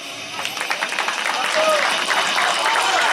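Audience clapping at a trail run award ceremony in Ioannina, a dense, steady patter of many hands sustained throughout at moderate loudness.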